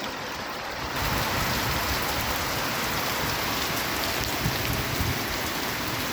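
Heavy monsoon rain pours down in a dense, steady roar that swells in suddenly after a brief quieter moment, then holds constant and close with no voices.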